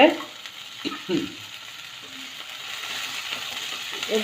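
Garlic and green chillies frying in a pan, a steady hiss of sizzling with a few clinks and stirring scrapes of a utensil, close and fairly loud.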